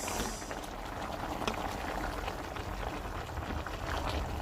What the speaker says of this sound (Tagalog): nagluluto ko ng sausage na may sibuyas